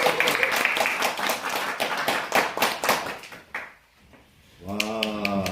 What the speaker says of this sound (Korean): 일단 박수를 좀 쳐야 돼요.